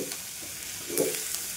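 Chillies and a small tomato sautéing in a pan for soya kurma, with a continuous close sizzle and a brief stirring scrape near the middle.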